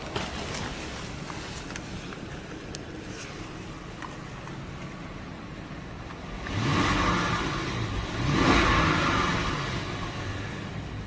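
A 2014 Bentley Mulsanne Mulliner's big engine cranks and fires, with the rev rising in two swells before settling into a smooth, quiet idle, heard close and alone.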